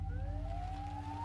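A siren wails with a slowly rising pitch over a low, steady rumble, sounding faint and somewhat distant.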